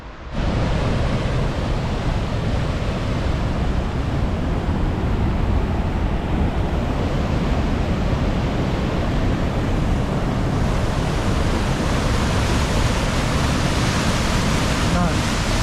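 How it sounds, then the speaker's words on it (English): Heavy, rushing river water roars steadily and loudly throughout near Nevada Fall in Yosemite in winter, a dense continuous wash of flowing current up close with no pauses. "Super heavy water flow"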